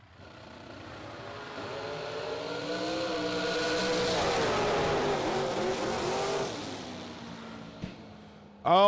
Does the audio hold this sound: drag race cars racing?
yes